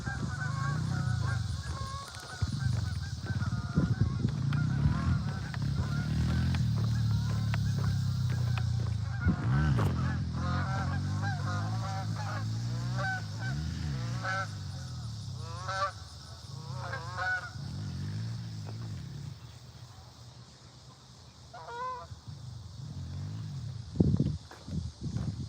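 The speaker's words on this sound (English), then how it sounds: "Another group of geese just took off." A flock of geese in a park honks loudly and repeatedly as the birds take off, the calls overlapping near and far over steady outdoor background noise, with a few rustles and footsteps.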